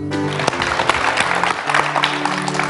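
A studio audience on a Chinese football television show breaks into dense, lively applause that carries steadily throughout, with a faint trace of a voice underneath.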